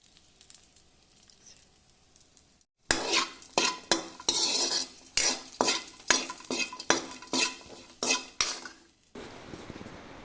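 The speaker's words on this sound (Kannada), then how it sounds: "ಅದೇ ಪಾತ್ರೆಗೆ ಸ್ವಲ್ಪ ತುಪ್ಪ ಸೇರಿಸಿ ಗೋಡಂಬಿ ದ್ರಾಕ್ಷಿಯನ್ನು ಕೂಡ ಸ್ವಲ್ಪ ಫ್ರೈ ಮಾಡಿಕೊಳ್ಳಬೇಕು." Cashews and raisins frying in ghee in a pan for chana dal payasam, with a steady rhythmic scraping and clinking of a spoon stirring against the metal pot over a soft sizzle, close and loud.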